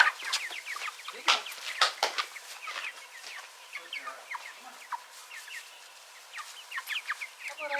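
A flock of backyard chickens clucking and chirping outdoors in quick, scattered bursts, some calls near and loud, others softer, over a quiet background.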